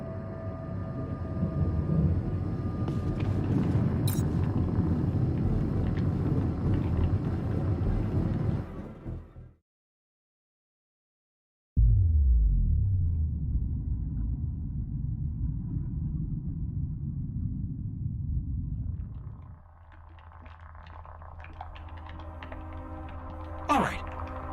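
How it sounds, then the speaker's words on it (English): Storm wind and deep rumble in the video game The Alters, a loud steady roar that cuts out completely for a moment, then returns as a lower rumble before a thinner windy hiss takes over. "We'll never get out of this damn storm."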